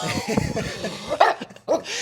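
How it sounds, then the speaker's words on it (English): A dog gives several short, close barks and yips over a few seconds, broken by brief pauses, mixed in with nearby people talking. "No, you cannot bark at him."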